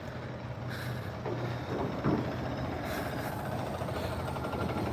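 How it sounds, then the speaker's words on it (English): Heavy trucks rumbling in and out of a beef slaughterhouse yard, a steady low engine drone at moderate distance with brief hiss and clatter. "I see trucks coming in and out like fucking crazy."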